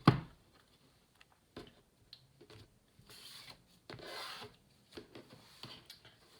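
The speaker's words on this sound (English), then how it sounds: "I'm just doing some more shuffling on camera for the people who prefer to see the shuffling." Tarot cards are shuffled by hand in short rasping, rubbing bursts with brief pauses between them, close and moderately quiet, with no voice over them.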